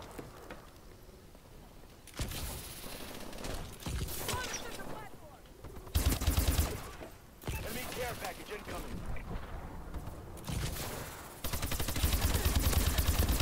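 Automatic weapon fire in the online shooter Call of Duty: Advanced Warfare, dense bursts of rapid shots in several stretches with brief gaps, mixed with other game effects throughout.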